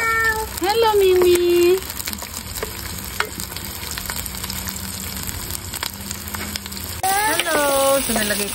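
Garlic and onion sautéing in a pan while cooking outdoors, a steady sizzle beneath loud meowing cat calls at the start and end, with voices speaking over the frying.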